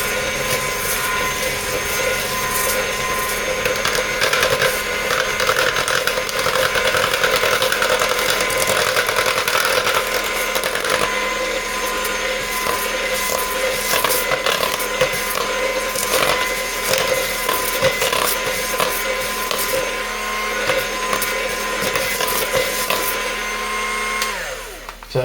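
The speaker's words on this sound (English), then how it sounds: "As you can see, it's just chugging right along, mixing this right up just fine." A modded Aldi Ambiano cordless mixer on low speed whirs steadily through zucchini bread batter, a close, continuous motor drone with scraping clatter from the beaters, heard alone without speech.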